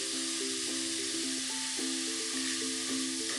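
A homemade toilet cleaner mixture fizzes and foams up in a steady, bright hiss that runs unbroken for several seconds. A faint tonal background plays underneath it.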